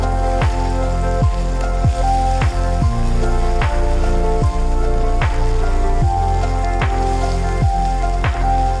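Spices sizzling and frying in oil in a pan, a steady loud crackle with a regular rhythmic thumping of stirring or pounding throughout, close and continuous with no talking.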